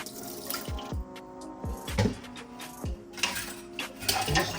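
Water poured out of a cooking pot into a sink, with several splashing gushes and clinks of the metal pot against the sink over a running, trickling background.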